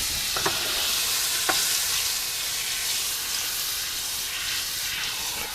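Butter sizzling hard in a very hot pan while cooking steak au poivre, a loud continuous hiss and crackle with a couple of brief clinks early on, close and without talk.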